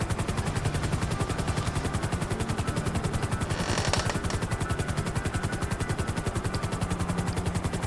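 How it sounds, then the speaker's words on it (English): A helicopter in the video game GTA V beats its rotor steadily and loudly throughout, a fast continuous chopping pulse with a brief brighter swell midway. "So with the helicopters, it's really hard to just have them hover"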